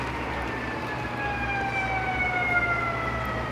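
An ambulance's wailing siren sweeps slowly through its tones at a moderate distance, over a low rumble of traffic.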